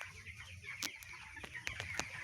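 Broiler chickens clucking inside a poultry farm shed, several soft short clucks and chirps scattered over a steady murmur of the flock, moderately close but quiet.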